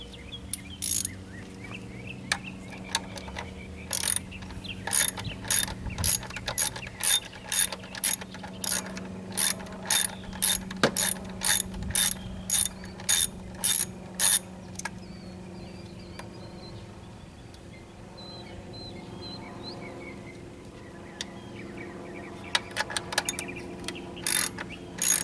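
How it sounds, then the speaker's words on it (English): An 8mm ratchet wrench clicks in quick, even bursts while loosening power-steering reservoir bolts on a 2005 Dodge Grand Caravan SXT, close and clear over a steady hum, then fades to quieter intermittent clicks. "I need a 8mm wrench for these two bolts"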